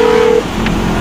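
A car in Grand Theft Auto 5 story mode drives with a loud, steady engine drone; a sustained horn-like tone sounds at the start and cuts off after a moment.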